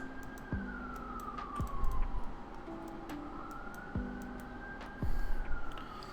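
Emergency vehicle sirens wail outside, a faint distant tone slowly rising and falling throughout, with occasional nearby clicks and thumps in the room.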